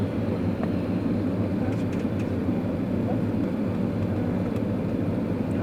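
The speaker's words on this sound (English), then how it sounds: "There comes the runway landing from here." Finnair Airbus A330 cabin during landing approach to Doha: a loud, continuous low engine and airflow roar that stays steady throughout, with faint clicks over it.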